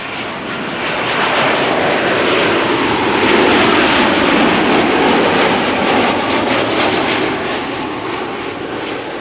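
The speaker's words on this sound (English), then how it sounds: "Transavia returning from Ibiza, flight 5680" Transavia jet airliner arriving at Amsterdam Schiphol from Ibiza roars close overhead, its loud engine noise swelling to a peak mid-pass and then easing off slightly, with no voices.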